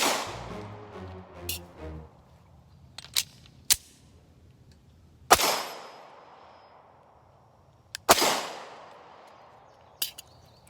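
Sharp gunshots from a Canik TP9 Elite SC pistol fired at a range, spaced a few seconds apart, some single and some close together, each crack loud and near with a short ringing tail.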